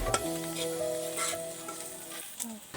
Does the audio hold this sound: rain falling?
no